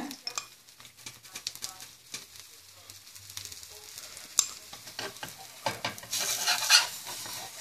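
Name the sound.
mutton kari dosa frying in sesame oil on a pan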